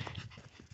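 A small dog pants quickly and rhythmically in deep snow, close by and fairly quiet, in one short burst of breaths.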